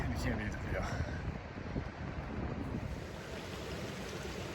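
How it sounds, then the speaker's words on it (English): Water rushes steadily in a small mountain creek near Newton Creek on the Timberline Trail, a close, continuous broadband roar with some wind buffeting the microphone and no voices. "it's got this beautiful little creek"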